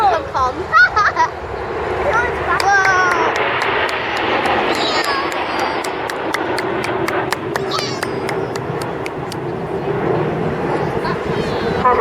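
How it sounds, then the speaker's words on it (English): Concorde airliner flying over an air show, a broad, loud roar of jet noise filling the scene while a crowd and commentator talk over it. "Ladies and gentlemen, this is Concord."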